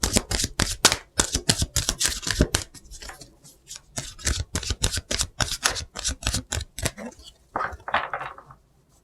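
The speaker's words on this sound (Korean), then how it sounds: "연애운에 대해서 로맨스 엔젤 카드 추가로 좀 뽑아보겠습니다." Romance angel oracle cards are shuffled in rapid crisp riffling bursts, close and fairly loud, with brief pauses and a few softer flicks near the end.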